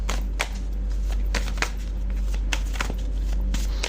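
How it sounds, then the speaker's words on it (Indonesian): Tarot cards are drawn and turned over in a quiet room, making soft, irregular slaps and sliding flicks against a low background hum, with no talk. "Coba aku buka lagi 3 atau 4 kartu lagi untukmu"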